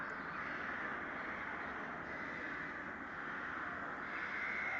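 Crows caw steadily in a thick, continuous wash of sound, likely a looping tabletop game sound effect, with no speech over it.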